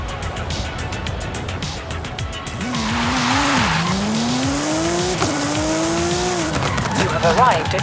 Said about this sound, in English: Which Golf do you want to drive for our little race? I'll take the Golf GTI.